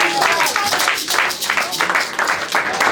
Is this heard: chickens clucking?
no